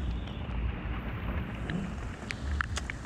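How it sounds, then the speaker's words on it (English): Rain falling during an outdoor storm while out fishing, a steady close hiss and patter with low rumbling gusts underneath and a few sharper drop impacts near the end, no speech. "It's raining."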